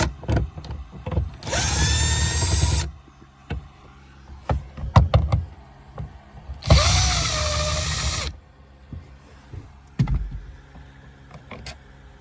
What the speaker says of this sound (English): So we'll go ahead and unscrew this first and pop those two out of there